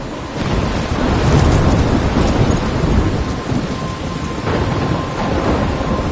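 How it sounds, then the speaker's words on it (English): Thunderstorm with rain in the video game Life is Strange Remastered: a loud, steady roar of heavy downpour layered with deep rolling thunder rumbles that swell and fade throughout, with no voices. "I'm trapped in a storm?"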